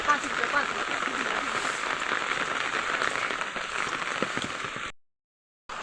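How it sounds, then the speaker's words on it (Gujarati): Heavy rain pours steadily over village farm fields, a dense, even hiss of drops on surfaces lasting about five seconds before cutting briefly to silence. "વરસાદ ફૂલ છે"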